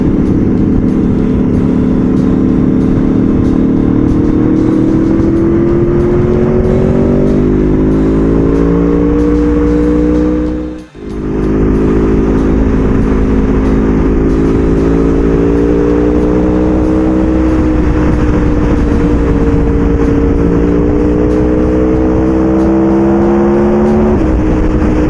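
An Aprilia Tuono V4 APRC motorcycle engine pulls hard through the gears, a loud steady rising whine with a brief break at a shift midway, then climbing again, close and alone without talk.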